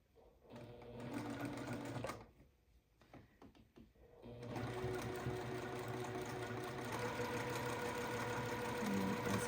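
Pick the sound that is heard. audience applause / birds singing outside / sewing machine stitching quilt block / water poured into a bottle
sewing machine stitching quilt block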